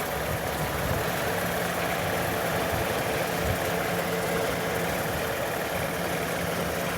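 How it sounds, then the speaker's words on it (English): A tractor engine runs steadily nearby with its throttle eased up a little, giving a constant mid-low rumble mixed with broadband mechanical noise at an even level throughout. "Give it just a little more throttle."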